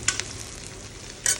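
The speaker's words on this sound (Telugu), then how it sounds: "ఇక్కడ పోపు పెట్టేశాను, ఆయిల్ వేసి, ఉప్పు, మిరపకాయలు, కొంచెం ఆనియన్స్" A tempering of oil, salt, chilies, onions and cumin sizzles in a pan, a short, close hiss with a couple of sharp stirring clinks at the start and another near the end.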